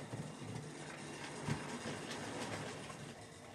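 A long model train engine runs along its track in a steady, faint, continuous rumble with soft rhythmic clatter and no voices over it.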